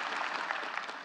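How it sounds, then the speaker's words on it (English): A crowd applauding steadily at a university state-of-the-university address, a dense wash of clapping at moderate volume with no voices over it. "Let's give these folks a round of applause"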